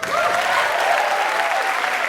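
Comedy club audience clapping and cheering at an Aziz Ansari stand-up show, a dense sustained burst of applause with a few whoops rising over it, no talking.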